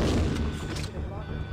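Grenade launcher blasts from the 1998 Resident Evil 2 video game, a heavy boom followed by a fading rumble, loud and close, with faint talk mixed in.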